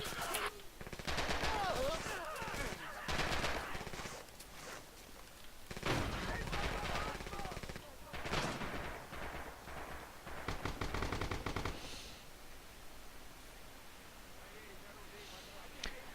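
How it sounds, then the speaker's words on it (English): Bursts and volleys of rifle and machine-gun fire in a World War II video game battle between two clan teams, dense and sustained for several seconds at a time. Commentators talk over the shooting. "suppressing from Snar there on the Germans in F"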